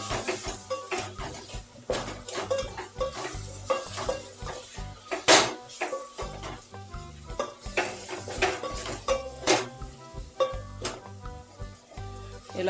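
A spoon stirs chili powder and turmeric into a pot for brinjal and fish curry, giving steady clinking and scraping against the metal with a light sizzle underneath and no talking.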